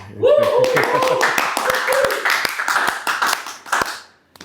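A small group claps during an Indonesian studio talk show, a quick patter of close, sharp hand claps running under lively voices talking and laughing over them.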